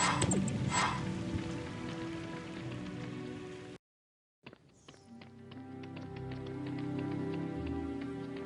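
Steady rain patters in a Harry Potter and the Chamber of Secrets video game scene, a dense hiss with scattered drops. It breaks off into a short silence, then returns as a fuller, louder wash.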